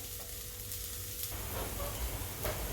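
Potato pieces frying and being stirred in hot oil in a home kitchen, a close, continuous sizzle with brief scraping stirs.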